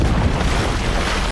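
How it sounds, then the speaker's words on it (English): A movie explosion from Deep Blue Sea, a deep, sustained rumbling boom that stays fairly level throughout with no sharp attack, filling the low end before cutting off abruptly. "Well, that was an underwhelming explosion."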